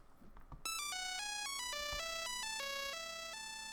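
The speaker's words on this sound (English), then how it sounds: "Let's look up some Nokia ringtones." A classic Nokia-style ringtone plays a clear, bright sequence of stepped electronic beeps, steady and loud after a brief moment of low background noise, with no voices over it.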